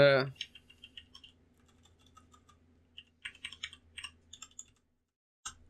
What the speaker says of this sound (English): use the arrow keys